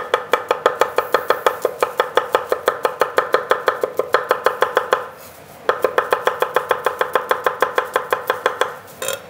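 Garlic is chopped with a knife on a cutting board in a kitchen, a fast, even run of sharp close taps that pauses briefly and then resumes at the same quick pace.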